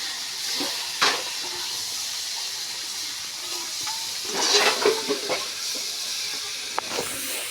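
Fried potatoes and pointed gourd are tipped into a hot cooking pan, where a soft hiss swells into a brief burst of sizzling midway, with a few light clatters.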